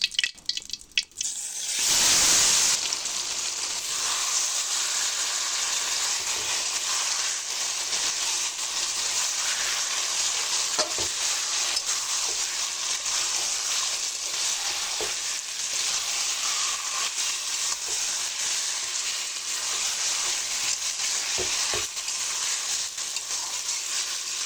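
Meat frying and being stirred in hot mustard oil with two bay leaves for a home-style chicken kosha, a loud steady sizzle with scraping stirs, after a brief clatter at the start.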